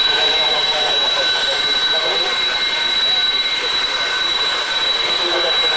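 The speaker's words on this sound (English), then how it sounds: "Yes, it's quite a special aircraft" Loud, steady roar of a jet aircraft engine with a high whine running throughout, close and continuous for the whole stretch, with no break in intensity.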